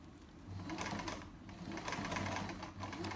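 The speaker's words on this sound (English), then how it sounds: "I'm going to go completely across. So once I get to that point, I've gone over both of them." A sewing machine runs in a continuous close whirring rattle as it stitches straight across the hems of a fabric chair pouch, steady and fairly quiet with no talking.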